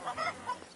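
A chicken in the medieval game Kingdom Come Deliverance 2 gives a short, nasal squawk in two quick bursts, fairly quiet, with no talk over it.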